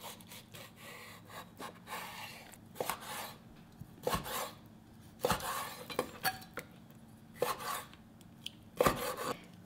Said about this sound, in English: And then I'm going to cut it these bite-sized pieces